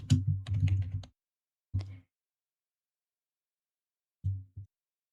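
Keys clatter on a computer keyboard while text is entered in Canva, a quick burst of close taps, then a short second burst and a brief final flurry separated by silence.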